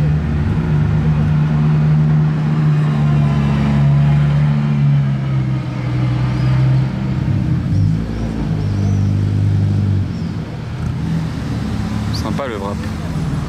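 A car rolls past at the Top Marques Monaco 2024 show, its engine a loud, low, close rumble that swells and fades under someone talking continuously in French.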